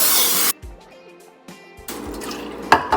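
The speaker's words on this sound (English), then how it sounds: "I'm going to spray some olive oil in the air fryer" A short hiss of olive oil cooking spray into an air fryer at the start, then quiet clicks and drips, followed by another burst of spraying and a couple of sharp taps near the end.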